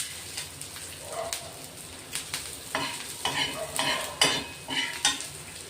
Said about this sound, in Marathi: मी तव्यावरच कांदे भाजून घेते